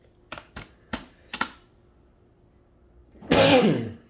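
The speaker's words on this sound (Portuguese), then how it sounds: "Nossa, tô espirrando." A single close, loud sneeze bursts out after a few soft clicks and taps in a quiet room, a short sharp blast of breath that fades quickly.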